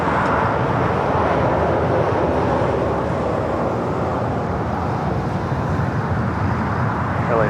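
American Airlines 27 heavy jet departing Los Angeles International Airport, a steady, broad, loud roar of jet engine noise that holds without letup throughout.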